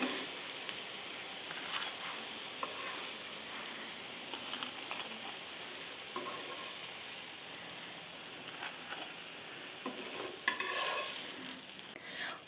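Potato kababs shallow frying in oil in a pan give a steady, close sizzle with soft crackles and occasional stirring clicks throughout, with no voices.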